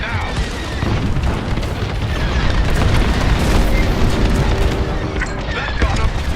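A reactor core explodes in the space combat game Star Wars: Squadrons with a loud, sustained rumbling boom that fills the whole stretch, mixed with roaring debris and blaster noise.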